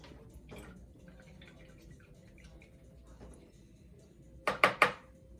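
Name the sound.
rinsing a paintbrush in water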